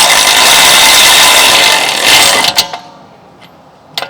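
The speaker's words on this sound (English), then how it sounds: "we're going to use our electric wrench and start installing these together" An electric wrench tightens brake caliper bolts on a 2023 Audi Q7 during a front pad and rotor job, giving a loud, steady whirring burst for about two and a half seconds, followed by a few sharp clicks and taps.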